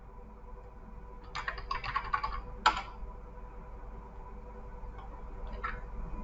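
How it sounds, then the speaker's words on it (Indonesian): Quiet typing on a computer keyboard while entering HTML structure, a cluster of rapid key clicks followed by a sharper keystroke, then sparse taps against a low steady hum, no talking. "kita coba ketikkan struktur HTML dulu."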